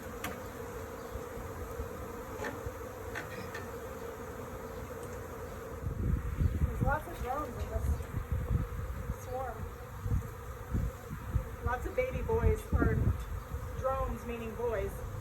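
A steady, dense hum of a bee swarm in a tree fills the background, with people talking intermittently over it in the second half.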